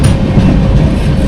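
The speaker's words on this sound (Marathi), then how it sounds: "तर ही जी ट्रेन आहे कन्याकुमारी एक्सप्रेस" Kanyakumari Express train rolling along the rails in India, a steady loud low rumble with rhythmic wheel clatter throughout, close and continuous with no voices.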